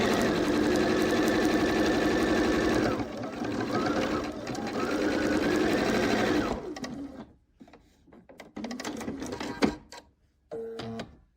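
A domestic sewing machine stitches pieced Bear Paws in the Snow quilt blocks in a loud, steady whir for about six seconds. It then stops, and quieter, intermittent clicks and handling sounds follow.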